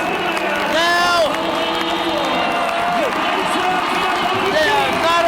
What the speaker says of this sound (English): the crowd is gone nuts